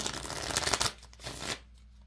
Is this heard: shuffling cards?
yes